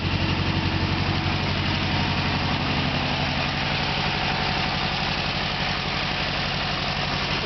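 Air-cooled engine of a 1956 Volkswagen Beetle chassis under a 1922 Ford Model-T replica body, idling with a steady, even low throb and chugging rhythm, close and continuous with no talk.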